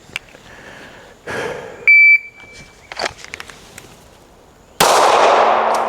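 Rifle shots at an outdoor range with rounds striking a steel plate target: several separate sharp cracks spaced a second or more apart, a brief steady tone, and a final louder blast that rings on.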